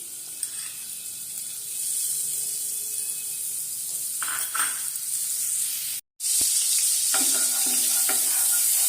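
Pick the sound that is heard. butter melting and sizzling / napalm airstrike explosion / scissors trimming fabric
butter melting and sizzling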